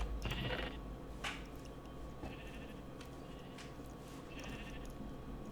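Sheep in the game Minecraft bleat several times in short, spaced cries over a steady low background hum, with no voices.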